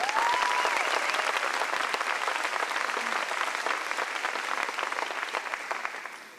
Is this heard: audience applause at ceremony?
yes